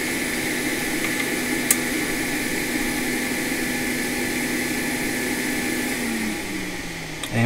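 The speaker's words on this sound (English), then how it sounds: "But we have a fan spin now." A MacBook Pro 13-inch Retina cooling fan, on a liquid-damaged board under repair, spins with a steady close whir and faint hiss, shifting pitch in its final second.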